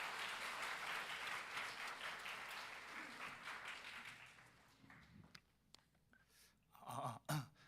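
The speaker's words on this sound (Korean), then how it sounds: "우리 박수로 우리 목사님 모십니다." A youth worship congregation applauds to welcome the pastor. The clapping is broad and sustained, then it thins and fades into scattered claps, a few taps and faint voices near the end.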